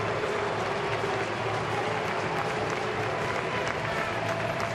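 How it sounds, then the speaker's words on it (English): Stadium crowd at a Phillies–Marlins game at Citizens Bank Park reacting to a pitching change, a broad, steady roar of mixed clapping and booing from a large crowd, with no clear pauses. "Some boos and a mixture of claps."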